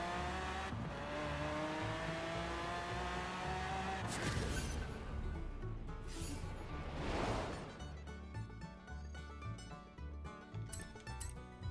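Drive wheels spin on a car launching in a Forza Horizon 4 drag tuning run, engine revving steadily, then a sharp surge with tire squeal and roaring acceleration that fades off.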